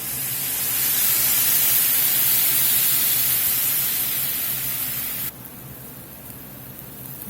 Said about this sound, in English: We'll get us some beer in here.